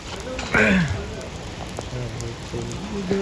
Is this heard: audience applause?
no